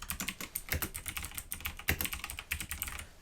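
Fingers type steadily on a computer keyboard with an English layout, in quick irregular bursts of close, crisp key clicks. Nobody speaks.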